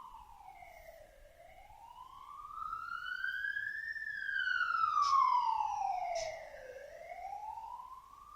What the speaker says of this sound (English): it's quite a loud police siren